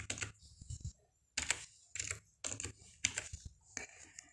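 Text typed on a computer keyboard, close and clear, with clustered bursts of rapid clicky keystrokes broken by brief pauses and no voices.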